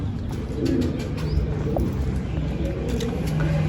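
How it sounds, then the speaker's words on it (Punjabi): Pigeons coo in a loft where a keeper breeds young birds, low soft calls repeating steadily over a continuous background murmur, fairly close. "ਇੱਕ ਕਬੂਤਰੀ ਆ ਆਹ ਕਬੂਤਰੀ ਆ"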